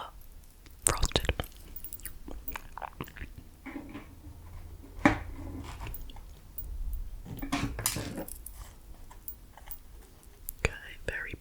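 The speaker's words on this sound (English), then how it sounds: "let's taste the vanilla frosted" Someone eats a vanilla frosted Dunkin donut with sprinkles, producing close soft bites and sticky chewing, with occasional clinks of dishes and quiet whispering between mouthfuls.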